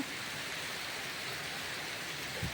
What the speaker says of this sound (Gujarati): જોરદાર વરસાદ છે